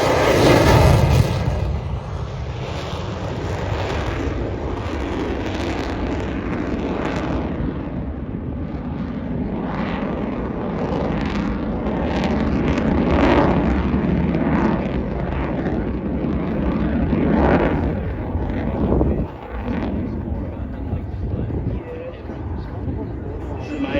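An airplane landing at the Avalon airshow, a broad engine roar that swells and lingers at a moderate distance, with a commentator talking over it throughout.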